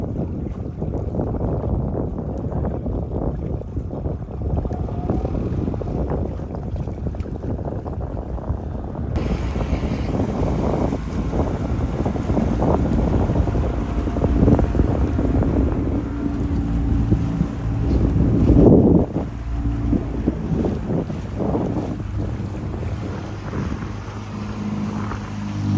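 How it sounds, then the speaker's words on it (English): A boat engine drones on the water of a ferry crossing to a farm, with a steady low rumble, wind buffeting the microphone and occasional splashing, no talking. "We're just going to moor the boat near the edge of this bank just here."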